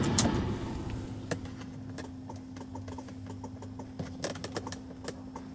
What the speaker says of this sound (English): I hear that clicking too on this one, but it ain't reclining.